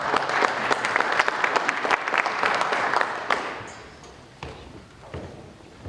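Conference audience applauding at a veterans keynote address, dense clapping for about three seconds that thins into a few scattered claps and fades.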